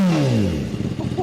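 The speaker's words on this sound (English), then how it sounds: "But right now it's just full system, M4, no tune, baffle still in it. It's a little low, choppy idle" A Kawasaki ZX10R with an M4 full exhaust system, untuned with the baffle still in, revs and drops back to a low, choppy idle, loud and close with uneven pulsing.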